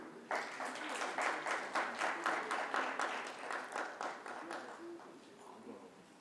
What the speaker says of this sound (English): Please give a wide round of applause, please.